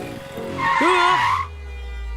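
A car rushes up and skids to a stop with a loud, sharp tire squeal, followed by a low engine idle, on a city street in a Hindi-dubbed comedy scene.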